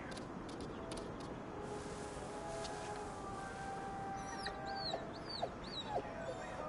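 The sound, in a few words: hungry dog whimpering in the video game GhostWire: Tokyo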